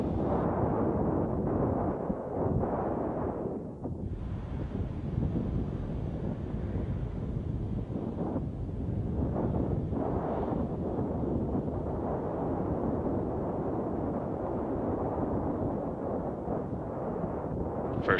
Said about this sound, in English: First stage thruster still continuing to fire nominally.